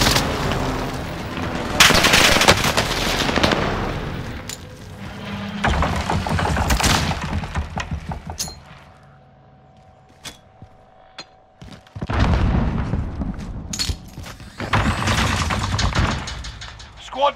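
Gunfire and explosions from a precision airstrike in Call of Duty Modern Warfare: loud bursts of shots and heavy booms in clusters, broken by a quieter stretch with isolated shots, and players talking over the action.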